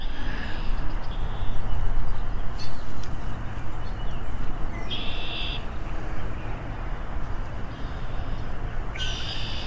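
Loud outdoor background with a dense wash of noise, broken by repeated harsh blackbird calls in short bursts scattered throughout.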